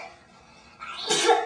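A single sharp sneeze bursts out nearby after a quiet moment, a short breathy intake followed by a loud explosive release.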